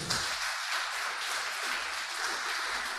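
Church congregation applauding in a broad, steady wash of clapping that carries on for a few seconds at moderate volume, with no talking over it.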